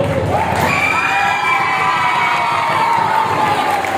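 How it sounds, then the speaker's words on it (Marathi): A crowd at an inter-collegiate cultural youth festival in North Ratnagiri cheers and claps loudly and without a break. High shouts and whoops rise above the dense, steady roar. "पण त्याआधी एकदा जोरदार टाळ्या पुन्हा एकदा या महाविद्यालयासाठी"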